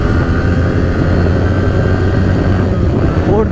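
Yamaha R15 v3 motorcycle, modified, accelerating up through its gears: a steady, loud engine drone with a sustained whine that holds evenly throughout, and a rising note near the end.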